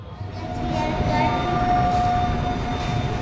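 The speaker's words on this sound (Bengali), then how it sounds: "ও একটা ট্রেন যাচ্ছে, ওইটা 8-এ ঢুকলো" A train rolls past at a railway station, a steady heavy rumble of wheels with a faint high tonal whine over it, fairly loud and sustained.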